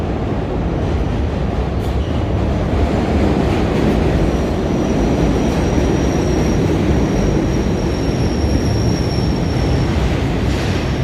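An N/W subway train in Astoria, Queens, rumbles past loudly and steadily, with a rolling roar of wheels on rails and a faint high squeal running over it throughout.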